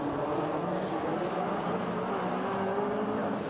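Rallycross race cars at Mondello Park, including an Astra locking up into turn 1, heard as a steady, fairly loud engine drone from the track with no break in the noise.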